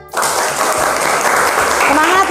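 In a classroom, an audience claps steadily for a student group about to present, making a dense, continuous patter close by. A voice speaks briefly over the clapping.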